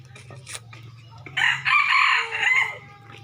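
A rooster crows loudly and close by, one long drawn-out crow over a steady low hum, preceded by faint clucking.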